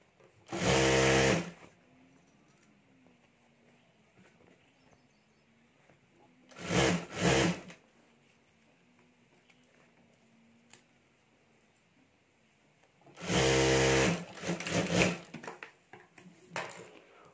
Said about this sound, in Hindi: यहाँ हमें सिलाई करके जिप और अस्तर ये तीनों जोड़ देना है हमें एक साथ